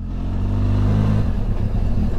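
A 2023 Benelli TRK 502 X motorcycle engine pulling at low revs, a close, steady rumbling drone that rises slightly as it accelerates.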